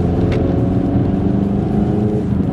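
A 2021 Ford Mustang EcoBoost with a 10-speed transmission pulls hard under steady acceleration, its engine droning loudly and evenly from inside the car without a clear break for a shift.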